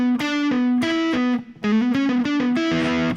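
Distorted electric guitar plays a fast legato solo phrase, loud and close, with sustained notes and quick slurred runs, a brief gap mid-phrase, then more fluid hammer-on and pull-off passages.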